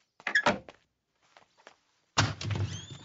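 A door in a home, likely a Hindi comedy film scene, opens with a quick thunk and rattle near the start, followed by faint shuffles and then louder handling noise.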